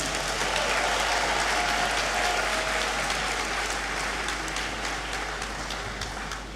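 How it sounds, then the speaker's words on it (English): A graduation congregation audience in a great hall breaks into sustained applause, a dense, even roar of many hands clapping that holds steady and fades slightly toward the end, with a low hum beneath. "I think that we deserve a big clap for this feat"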